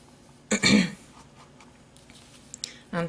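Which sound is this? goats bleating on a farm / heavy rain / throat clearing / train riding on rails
throat clearing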